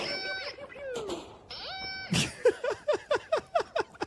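A cat meows close by: a few drawn-out, sliding cries, then a rapid series of short, evenly spaced meows. The sounds are faint and come against a quiet background.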